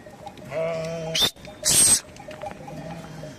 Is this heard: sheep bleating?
yes